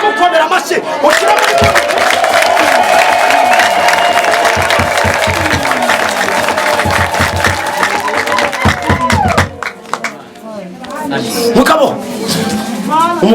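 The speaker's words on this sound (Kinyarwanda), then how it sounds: "Niba waramubonye mukomera amashyi" A church congregation at a live prayer service claps and cheers together, with loud sustained shouts and whoops over a rhythmic burst of applause that fades toward the end.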